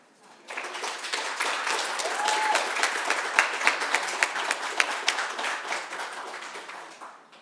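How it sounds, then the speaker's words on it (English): Applause rises from an audience after a speech at a local government professionals' event in Temecula, swelling quickly into sustained clapping with a few sharp individual claps standing out before it fades. "if we could all just give Melanie another round of applause"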